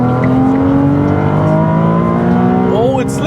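Ferrari 296 with an 830-horsepower rear-wheel-drive engine revving hard under full throttle on the autobahn, a loud continuous rising engine note heard from inside the cabin, with a brief tire slip near the end.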